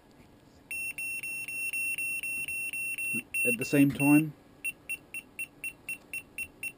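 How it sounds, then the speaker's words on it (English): Electronic beeping from a radio-control receiver during transmitter unbinding: a run of steady tones, then someone speaks briefly, followed by a quicker series of short regular beeps. "Beeping, and the receiver is beeping"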